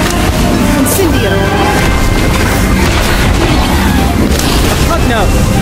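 In the video game Harry Potter: Magic Awaken, an Incendio fire spell is cast amid heavy booming blasts and crackling impacts, loud and continuous, with game voices and shouts over the top.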